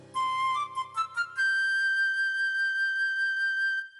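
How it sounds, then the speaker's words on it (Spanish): Flute plays a few quick high notes, then holds one long, pure sustained tone that fades out, bright and close with no voices. "es una flauta."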